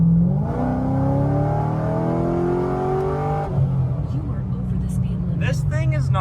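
A 2010 Corvette C6 with an LS3 V8 and a large cam accelerates hard, its engine note climbing steadily in pitch through a gear before a shift, then pulling again, loud and close throughout.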